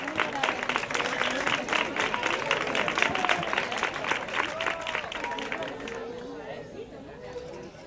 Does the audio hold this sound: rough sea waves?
no